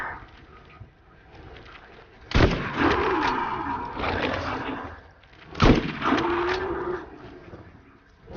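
Two loud, booming shotgun blasts from the video game Borderlands, each a sharp broadband crack with a ringing tail, roughly three seconds apart over a quiet game background.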